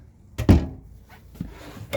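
A cabinet door in a 2022 Jayco Pinnacle camper shuts with a solid thunk, followed by a couple of softer knocks and clicks nearby.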